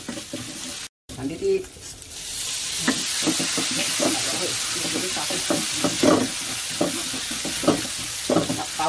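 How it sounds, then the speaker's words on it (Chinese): Satay sauce stir-fried over high heat in a wok, a loud continuous sizzle punctuated by repeated scraping strokes of the spatula across the bottom, with a short bit of speech partway through. "先猛火爆下佢，铲下个底，爆香下佢"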